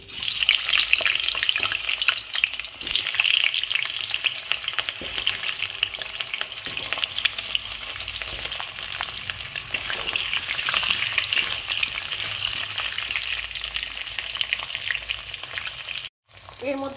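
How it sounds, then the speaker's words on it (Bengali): Potatoes frying in hot oil tempered with cumin and a bay leaf for a chicken curry, a loud continuous sizzle with frequent stirring scrapes and crackles, briefly cutting out near the end. "এর মধ্যে আলুগুলো ভেজে নেব।"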